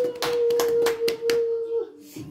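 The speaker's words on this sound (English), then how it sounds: "Give him some hand of applause." Family members clap after a birthday speech at a 26th birthday celebration, several bursts of hand claps close by over a steady tone, fading near the end.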